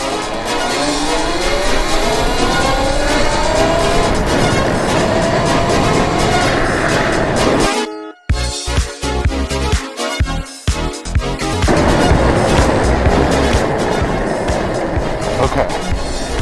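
A 72V Talaria electric dirt bike ridden in race 1 mode: a rising electric motor whine with rushing wind and road noise, broken by a brief choppy dropout midway before the steady riding noise returns.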